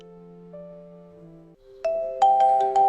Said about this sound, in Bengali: কে ফোন করছে?